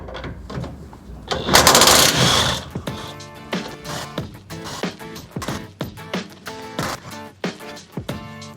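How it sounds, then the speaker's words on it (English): An impact wrench with a 17mm socket loosens bolts on a rear bumper and tire carrier: one loud, rattling burst lasting about a second, followed by lighter metallic clanks and handling noises. "for this, we're using a 17mm socket on an impact"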